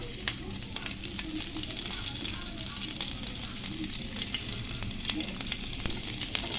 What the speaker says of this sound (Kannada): ಪ್ಯಾನ್ನಲ್ಲಿ ಹಸಿಮೆಣಸಿನಕಾಯಿ ಹಾಕೋಣ.